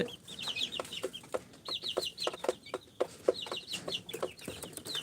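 Native free-range chickens on a poultry farm cluck steadily in short, repeated bursts, several birds close by with overlapping calls and a faint farmyard hum beneath.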